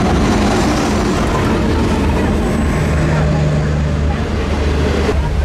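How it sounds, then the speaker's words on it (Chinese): A green-skin passenger train pulls into a small station in Linkou with a loud, continuous low rumble and rolling wheel noise, while faint voices sound in the background. "火车来了。"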